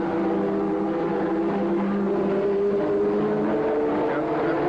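Formula 1 race cars at the 1983 Detroit Grand Prix street circuit, Ferrari leading, a continuous loud engine roar with shifting pitch as the pack runs by.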